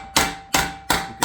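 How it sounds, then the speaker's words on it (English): Hammer blows on rusty car body metal from a 1972 BMW 2002 held against an anvil, four sharp ringing strikes at an even rhythm, loud and close with no talking. "I'm hitting right up against the anvil and the piece of metal."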